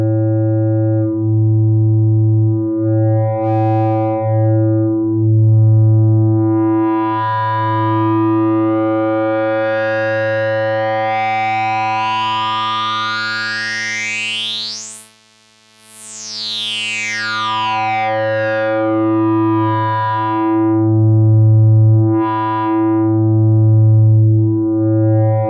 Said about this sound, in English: Now listen as I sweep the cutoff frequency.